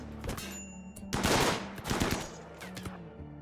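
Video game gunfire in Rimworld, a quick series of sharp, clustered shots in short bursts, with a pause between volleys, fairly close and without talk over it.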